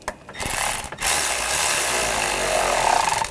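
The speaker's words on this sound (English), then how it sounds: "And tighten down the hose clamp." Ratcheting on a hose clamp during intake manifold gasket work on a 2004-2012 Chevrolet Colorado 3.7L L5, a steady close mechanical clicking run that starts after a short pause and continues to the end.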